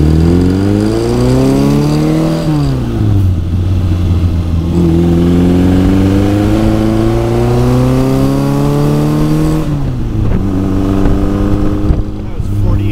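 Custom five-speed Bugeye Sprite engine pulling hard, the loud, close drone climbing steadily in pitch and dropping sharply at each of two gear shifts before winding up again.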